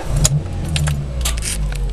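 Keys jangle close by, then the engine of a Citroen Nemo 1.4 LPG van starts and settles into a steady, loud idle.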